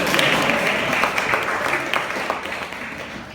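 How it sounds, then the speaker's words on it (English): A crowd applauds a speaker introduced on stage, steady dense clapping throughout at close range. "Give a round of applause, come on."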